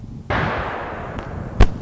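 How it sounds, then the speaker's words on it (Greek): A single gunshot rings out within a played video, a sharp crack followed by a short burst of sustained noise and a second sharp thump near the end, no voices. "ξαφνικά ακούγεται ένας πυροβολισμός και η εικόνα αρχίζει να παραμορφώνεται"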